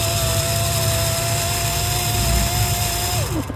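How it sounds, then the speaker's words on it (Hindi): Electric mixer grinder grinding onion, a loud steady motor whir and rattle running throughout, winding down at the very end, with no talking. "प्याज को ग्राइंड कर देते हैं फटाफट से"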